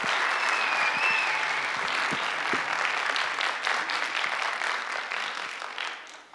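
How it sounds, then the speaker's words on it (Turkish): An audience in a school debate competition hall claps in sustained, dense applause that fades slightly toward the end, with a faint voice briefly audible. "Kuvvetli alkışlarınızla Sevgi Betül Çuhadar."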